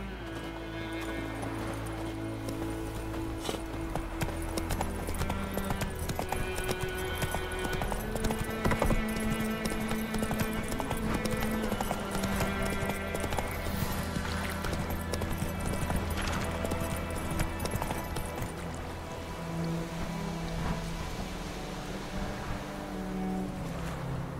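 Hooves of the horse Roach clip-clop at a trot in The Witcher 3, a steady rhythmic patter set against game music, water and ambient noise.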